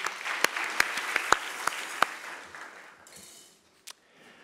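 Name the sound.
audience applause for candidate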